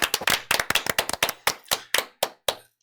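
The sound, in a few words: hands clapping, a round of applause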